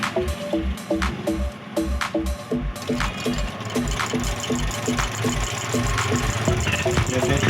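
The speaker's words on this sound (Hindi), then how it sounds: "अभी सिलाई कर रही है बिल्कुल" A sewing machine stitches steadily after a bottom-thread fault has been fixed, its needle mechanism thumping in a fast, even rhythm with a low motor hum running underneath throughout.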